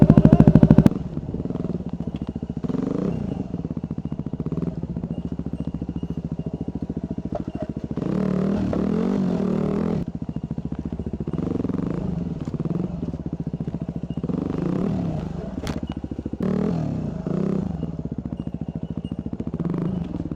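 Enduro motorcycles ride slowly off-road, engines chugging at low revs with rising and falling throttle, clattering and thumping over rough ground, close by and fairly loud.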